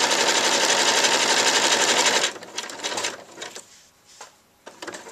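A sewing machine runs fast and steady for about two seconds while stitching a machine applique on fabric, then stops, followed by soft clicks and handling noises of repositioning the material.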